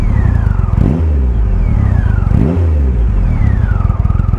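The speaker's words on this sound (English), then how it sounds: "let me just blip the throttle" A Triumph Rocket III motorcycle's big engine idles with a deep, loud throb, and the throttle is blipped three times in steady succession, each producing a short rising rev that falls back to idle.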